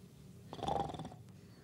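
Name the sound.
man imitating snoring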